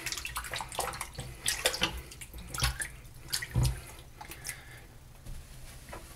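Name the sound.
rinsing a hand under running tap water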